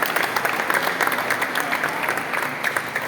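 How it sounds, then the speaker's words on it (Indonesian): Audience applause for table tennis champions at a regional championship prize-giving, a continuous even wash of many hands clapping at once, fairly close and loud. "Aplaus untuk kalian semua."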